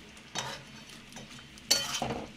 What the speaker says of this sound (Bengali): এবার একটু নাড়াচাড়া ভালোভাবে করে নিচ্ছি